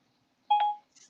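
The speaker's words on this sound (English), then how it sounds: "My phone is going crazy." A phone sounding a short electronic notification tone, a quick bright two-part beep followed by a fainter higher blip, close and isolated in near silence.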